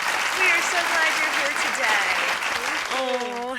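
An audience claps continuously to welcome a guest onto a stage, a dense and fairly loud wash of applause while a voice talks over it, with a sung or held vocal tone entering near the end.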